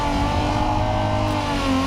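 A BMW E30 racecar engine pulls hard out of a turn on a road course, a loud, close, sustained mid-pitched drone that holds steady throughout, with no voices over it.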